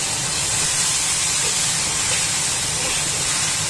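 Water spinach sizzling in a hot wok while being stir-fried, a steady loud hiss of steam and frying with no pauses and no talking.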